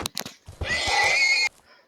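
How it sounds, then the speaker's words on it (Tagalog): A horse in a video game lets out one loud, sustained neigh of about a second, close by, after a few brief thumps. "may kabayo dito kaya pinatay ko"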